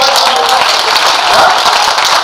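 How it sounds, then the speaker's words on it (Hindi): An audience at a Hindi poetry recital claps in a dense, steady burst of applause that fills the whole moment, loud and close. "एक बार कस के ताली कूटो"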